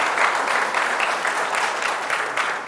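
Dense applause from an audience at a formal address by a district governor in Abidjan, steady broadband clapping throughout, fairly loud and close.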